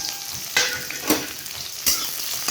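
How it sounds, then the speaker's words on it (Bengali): Onions hit hot oil in a wok with a bright, steady sizzle and crackle, broken by a few louder scraping stirs spaced through the moment. "তেলটা গরম হয়ে গেছে, পেঁয়াজগুলো দিয়ে দিব।"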